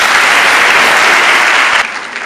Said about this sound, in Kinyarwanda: Rero mufashe twakomera amashyi.